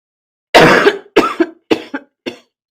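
A person coughs several times in a row up close, one strong cough followed by a series of shorter, weaker ones, then silence.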